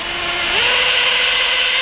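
A power drill runs steadily during a Toyota 2JZ engine build, a loud continuous whine that shifts up in pitch partway through and holds, close up with no talking.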